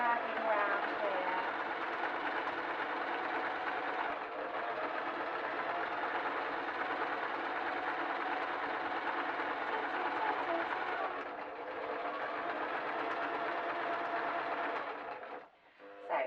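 Sewing machine stitching fabric for an English saddle cover, a steady, continuous mechanical whir running nearly without pause, with a brief stop near the end and a voice talking over it.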